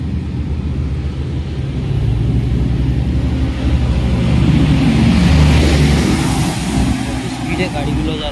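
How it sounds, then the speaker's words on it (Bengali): Cars speed past on a flooded road in Dubai during rain, a steady low rumble of traffic that swells as a vehicle passes mid-way, with voices talking over it. "স্পিডে গাড়িগুলো যাচ্ছে, ওই দেখো ওখানে জলে ভর্তি হয়ে গেছে ওদিকটা"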